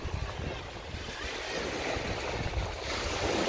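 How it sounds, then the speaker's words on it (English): Strong wind buffets the microphone at a beach while surf washes in continuously, a loud, dense roar of gusts and waves filling the whole stretch. "It's so windy."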